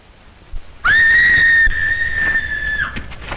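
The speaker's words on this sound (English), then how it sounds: "What was that scream?" In a 1936 film serial, a high, piercing scream rings out loud and sustained for about two seconds, then fades, with faint background noise.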